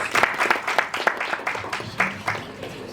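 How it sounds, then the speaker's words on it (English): An audience at an education and wellness event gives a round of applause, steady clapping throughout with some voices mixed in at a moderate distance. "Let's give them a round of applause, please."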